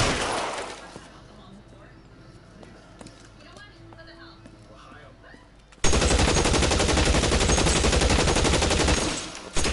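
Rapid gunfire from a video game police shootout bursts in loud and dense halfway through, continuing as a sustained volley after a quieter stretch of ambient noise.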